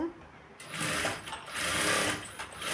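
A sewing machine stitches a blouse lining in a steady, loud whirring run that briefly dips before running on, with a voice speaking over it.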